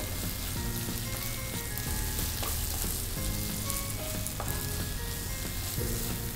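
Prawns frying in Chettinad masala in a pan: a steady, dense sizzle with a constant spitting crackle, close and loud throughout with no talking.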